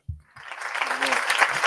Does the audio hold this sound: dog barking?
no